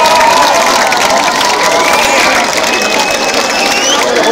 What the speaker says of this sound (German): Ihr dürft klatschen.